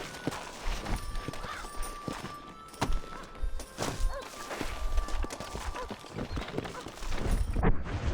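Horse hooves clip-clop at a steady trotting rhythm in the Red Dead Redemption video game, mixed with thuds and other game sounds, moderately loud and up close.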